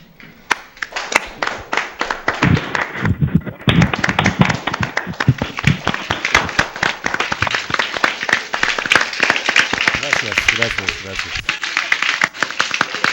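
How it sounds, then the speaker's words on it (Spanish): An online conference audience applauds through open microphones at the close of the session: dense, uneven clapping from many separate connections runs continuously, with some voices mixed in. "Solo les pido abrir sus micrófonos para cerrar la conferencia con un aplauso."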